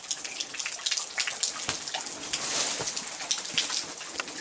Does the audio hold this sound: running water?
yes